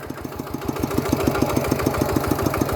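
A Kubota single-cylinder diesel walking tractor engine runs close and loud, with a steady rapid thumping beat and knocking pulses throughout and no voices.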